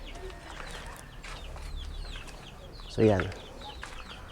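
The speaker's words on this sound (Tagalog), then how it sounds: "Yan, mga sisiw ko sa likod sa may bahay." Young chicks kept behind a house cheep in a steady high chatter, with one louder burst of clucking near the end, under a man's brief speech outdoors.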